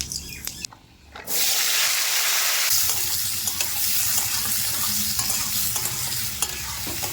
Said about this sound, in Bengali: কড়াইতে তেল রয়েছে, তেলের মধ্যে দিয়ে দেবো 5 ফোড়ন।